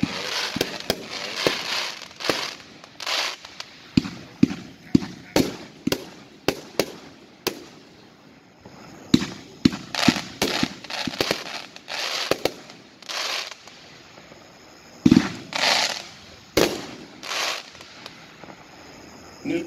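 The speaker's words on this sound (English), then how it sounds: "Cutting Edges Nuclear Crisis. A 4-1 packed, 23 shot, 500 gram cake." Cutting Edge Nuclear Crisis, a 23-shot 500 gram firework cake, fires a long irregular series of loud launches and bursts, some with crackling tails, over about twenty seconds.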